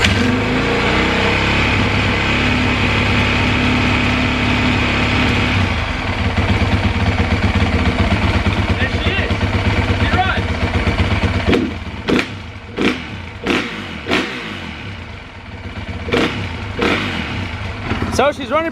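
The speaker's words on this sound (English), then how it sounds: "So let me go ahead and pull it out, start the bike up, and we should be going." A fuel-injected Honda motorcycle that had sat for years starts from cold and settles into a steady, close idle, with several sharp blips or clicks breaking through near the end.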